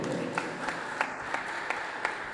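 Audience applause in a school basketball quarterfinal gym as a player is introduced, a fairly soft, even patter of clapping with occasional louder individual claps cutting through.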